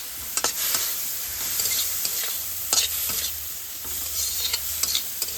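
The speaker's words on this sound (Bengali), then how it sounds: "এইভাবে একটু ভালো করে নাড়তে হবে।" Curry being stirred in a pan just after water is added, a steady sizzle and bubbling with repeated scraping strokes of a spoon against the pan, close and continuous with no talking.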